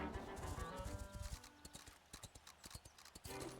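Horse hooves clip-clop in Zelda: Echoes of Wisdom, a quiet, steady run of sharp hoofbeats that follows a brief burst of game sound.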